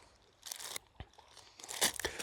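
Close, quiet crunching and chewing of a dry Taco Bell Crunchwrap eaten on a beach at night, several crisp bites and crackles in uneven bursts with no talking.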